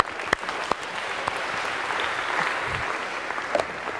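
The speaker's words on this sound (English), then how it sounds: "So a big round of applause if we can for these four." A lecture-hall audience of students applauds steadily for several seconds, with a few sharp individual claps standing out early and near the end.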